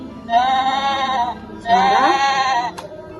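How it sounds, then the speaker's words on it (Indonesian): Two drawn-out sheep bleats, loud and close, each lasting about a second with a short pause between them. "Sheep."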